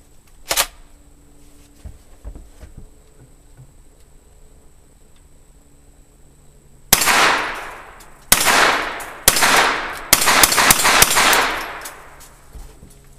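Loading a cartridge and cycling the action of a black carbine, heard as a few sharp metallic clicks and clacks close up, with a brief knock early on and near silence between.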